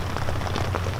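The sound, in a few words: rain falling on a tent at night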